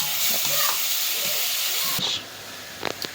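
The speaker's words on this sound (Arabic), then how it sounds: "هنا حبه سمنه ننزل عليهم بشويه بصل ونقلبهم" Onions sizzle loudly in hot ghee while being stirred, a dense frying hiss with scraping utensil strokes that cuts off abruptly partway, leaving a quieter hiss and a few sharp clinks.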